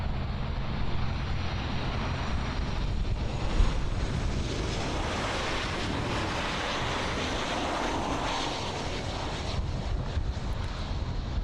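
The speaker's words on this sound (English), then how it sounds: "On approach, we have a Southwest Boeing 737." A Southwest Airlines Boeing 737-800 in Freedom One livery on approach to Miami International Airport, arriving from New Orleans, gives a steady broadband jet roar that holds fairly constant throughout, moderately loud without talk.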